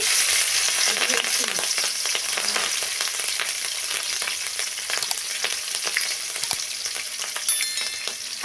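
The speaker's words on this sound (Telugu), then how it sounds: "దోరగా వేపుకోవాలండి మినప్పప్పు మాడకూడదండి" Urad dal frying in a pan with turmeric, a loud continuous crackling sizzle with occasional stirring clicks, close and steady, with no speech.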